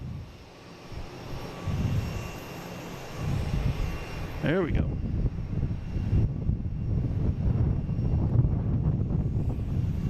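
A Copa Airlines Boeing 737-800 taking off from runway 4 right, its jet engines a steady low rumble with a rising whine midway, heard from a distance with wind buffeting the microphone and a person speaking briefly.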